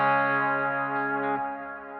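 An electric guitar chord rings out on a crunch tone through the Neural DSP Archetype Plini plug-in, lightly distorted with reverb and delay, sustaining and slowly fading alone.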